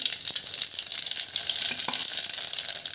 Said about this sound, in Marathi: आता त्यामध्ये आपण मोहरी टाकूया